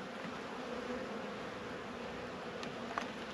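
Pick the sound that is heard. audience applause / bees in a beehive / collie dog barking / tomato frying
bees in a beehive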